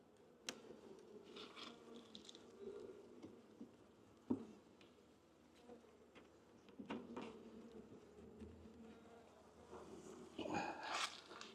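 Honey bees buzz faintly around an opened hive, a soft continuous drone broken by occasional knocks and scrapes of frames being handled, with no talking.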